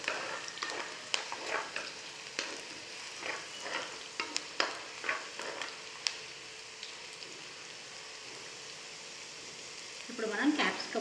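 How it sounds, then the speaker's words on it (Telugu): Capsicum frying for a sweet corn Manchurian gravy: a close crackling sizzle broken by repeated scraping stirs of the spoon against the pan, ending in a brief louder burst. "ఇప్పుడు మనం ఒక క్యాప్సికమ్ అనమాట, అది కూడా వేసాము. దాన్ని కూడా బాగా ఫ్రై చేసుకున్నాము."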